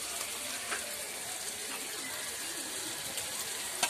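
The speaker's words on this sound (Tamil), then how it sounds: "அந்த கால் கிலோ தக்காளியை இதில் ஆட் பண்ணிக்கலாம்" Ground tomatoes hit hot oil in a frying pan for prawn biryani, giving a steady, even sizzling hiss that stays moderately loud throughout, with a few small pops.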